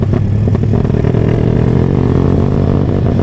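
A Honda Tiger motorcycle runs under throttle with a loud, steady engine roar and a dense, even exhaust pulse from close by, plus some mechanical clatter.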